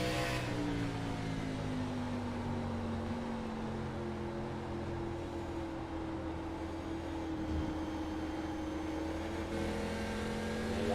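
ARCA race cars circle the Milwaukee track with a steady engine roar. Several engines overlap and their pitch shifts gradually as the cars pass at a distance, with no talking over the sound.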